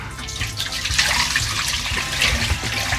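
Water rinsing acid off the rusty sheet metal of a Ford Falcon, a continuous close splashing and gushing flow with uneven spatter, fairly loud and heard without talk.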